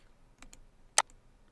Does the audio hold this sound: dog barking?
no